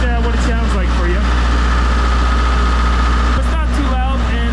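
An Onan CMQD10000 diesel generator running outdoors in cold weather gives a loud, steady low drone with a constant idling rumble, while someone talks over it close by.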